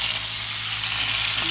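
Beef short ribs searing in a hot pan, a loud, dense, continuous sizzle up close with no voices.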